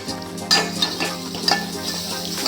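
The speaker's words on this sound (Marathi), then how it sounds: "छान असं सगळं मसाला हलवून घ्यायचा आहे आणि मस्त तेल सुटेपर्यंत भाजायचं आहे" Fish curry masala roasting in oil crackles and sizzles up close while a utensil scrapes and clinks against the pan in a few sharp strokes.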